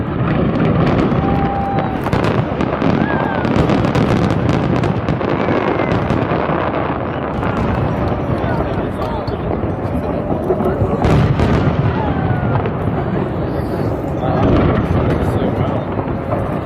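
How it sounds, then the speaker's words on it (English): Spectacular fireworks burst over the water as seen from a large yacht in North Korea, a dense, continuous rumble of booms and crackles, loud and sustained, with voices talking under the noise. "We went on a large yacht from which we saw some spectacular fireworks."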